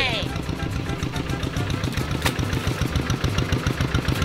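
A tractor engine chugs steadily in a rice field, a close, continuous, pulsing mid-range drone with clattering, while people talk over it.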